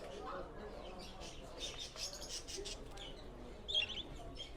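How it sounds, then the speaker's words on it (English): Birds chirp at a small pet shop in Costa Rica, with faint brief calls mixed into busy street ambience while people talk nearby. "Do I hear like a pet shop somewhere? I hear birds."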